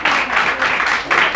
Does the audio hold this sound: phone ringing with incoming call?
no